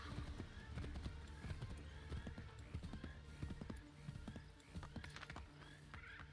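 Horse hooves clip-clopping in the video game Assassin's Creed III, a close, steady run of hoof strikes with soft background noise and occasional snorts.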